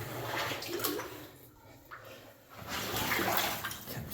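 Mud and water slosh and splash as someone wades slowly through an abandoned gold mine, a close, muffled churning that swells and fades in two surges.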